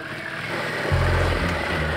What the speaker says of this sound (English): This weekend, we're all riding the Harley-Davidson Pan America 1250 Special.